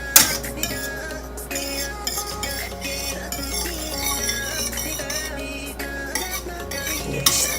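Butter being mixed into a thick mixture in a pan, a spoon stirring and scraping with steady, close clinks against the metal and a light sizzle underneath.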